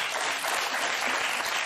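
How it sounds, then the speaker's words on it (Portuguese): Television studio audience applauding guests, a dense, steady wash of clapping throughout, moderately loud with no speech over it. "uma salva de palmas para os nossos dois convidados."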